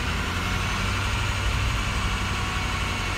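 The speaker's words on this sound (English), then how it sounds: "when you rev it up and pull some fuel and then let off and go back to idle like that" A Ford 6.0 Powerstroke diesel in a Super Duty bucket truck, with a misfire on one cylinder, runs at a steady loud idle close by, an even low rumble with no clear rev.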